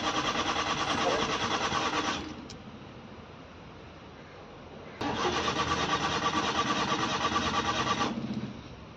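A Maruti Alto car engine with a starting fault cranks and catches, runs for a couple of seconds, drops quieter, then is started again and idles steadily before cutting off.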